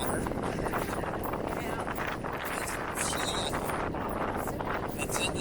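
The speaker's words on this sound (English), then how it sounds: "but it's windy" Steady wind gusts across the open Lake Michigan shore at Grand Haven in the 70s, a broad rushing roar buffeting the microphone throughout, with people talking underneath.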